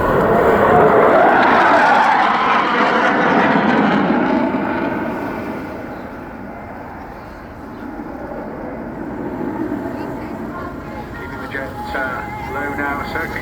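A Eurofighter Typhoon flying a low airshow display pass at the English Riviera airshow sends out a heavy jet roar that swells loud, then fades and rumbles on in the distance.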